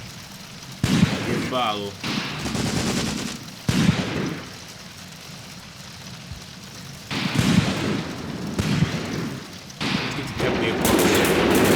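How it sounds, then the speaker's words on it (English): Mortar and artillery fire in Graviteam Tactics: Mius Front, with repeated heavy blasts thudding at irregular intervals under steady background rumble while someone talks over the bombardment. "At least they're targeting him and not the trenches with the mortars and the artillery."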